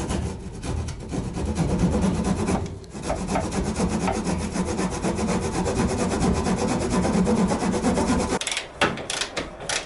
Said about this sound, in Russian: Можно емкость распилить.